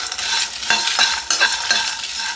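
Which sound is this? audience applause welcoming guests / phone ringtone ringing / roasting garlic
roasting garlic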